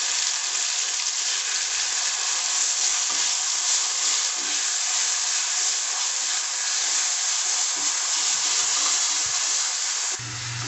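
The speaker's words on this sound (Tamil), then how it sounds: "இப்போ இதை நல்லா வதக்கிக்கோங்க" Ground spice paste for turkey berry curry sautéing in a pan, a loud continuous sizzle and crackle running close and unbroken, with a short clunk at the very end.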